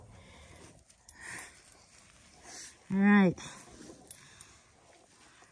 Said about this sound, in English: You're such a crazy dog.